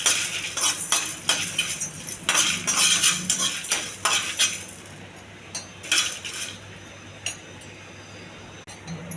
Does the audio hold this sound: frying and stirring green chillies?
yes